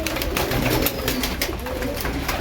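Female pigeons kept at home coo close by, low soft repeated murmurs layered over one another, with light rustling and fluttering throughout.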